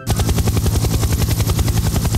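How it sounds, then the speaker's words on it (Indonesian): Helicopter rotor thudding steadily in a fast, even pulse, loud and close with no voices over it, heard as a sound effect in an animated fight story. "Tapi di saat yang sama, terdengar suara helikopter."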